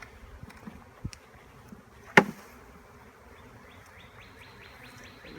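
Honeybees buzzing faintly as a brush sweeps a hive screen in a beekeeping setting, a soft steady insect drone with a sharp brush stroke near the middle and rising whirring tones toward the end.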